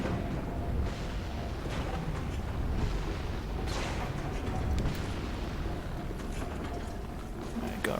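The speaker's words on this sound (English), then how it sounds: "we're still dealing with the ballista here, so we're going to chill right here until it stops shooting" In the video game Dark Souls 3, a ballista fires repeatedly, with heavy booming thuds spread through a dense, rumbling game soundscape that stays loud and busy throughout.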